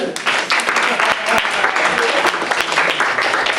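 Comedy club audience applauding, a dense, steady wash of clapping close by, with a voice speaking underneath.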